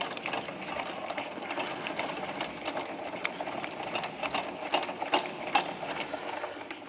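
A caravan stabilizer leg is wound down by its hand crank, giving a quiet continuous mechanical whirring with fast ratcheting clicks and a few sharper ticks, without speech.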